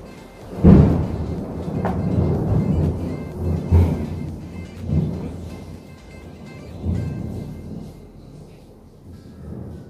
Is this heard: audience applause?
no